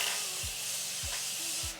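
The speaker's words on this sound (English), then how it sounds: "taking my setting spray and spraying it on my face right before I put the foundation on" Setting spray misted onto a face before foundation goes on, a steady close hiss that fills the whole stretch with no voices.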